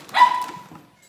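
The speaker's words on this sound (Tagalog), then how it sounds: "Aso namin yan." A pet dog gives a single short, sharp bark nearby, loud and brief, followed by quiet.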